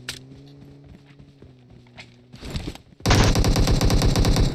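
Automatic gunfire in the mobile battle royale game PUBG Mobile, a red-dot sight weapon firing: sparse shots and footsteps at first, then a loud, sustained rapid burst of rounds near the player for over a second.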